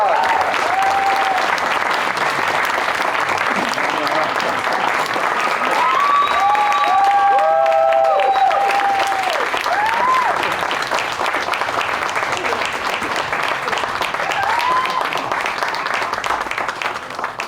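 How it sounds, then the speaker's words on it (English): Sustained, loud applause from an audience at a 2025 Slamdance film premiere Q&A, dense clapping filling the room continuously with faint cheers and whoops rising over it. "Give them a big round of applause."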